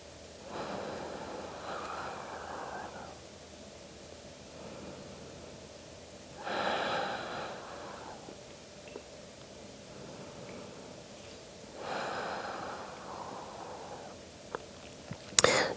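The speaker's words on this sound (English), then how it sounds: "Final few breaths here." Slow, deep yoga breaths during a guided session, three long audible inhale-exhale cycles spaced several seconds apart over quiet room tone, ending with a faint click.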